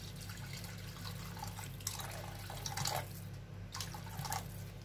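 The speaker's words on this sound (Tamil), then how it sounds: "அந்த அளவுக்கு தண்ணி இதில் சேர்த்துக்கலாம்." Water runs and splashes softly into a pot, a faint, steady trickle with a few louder splashes, no voices.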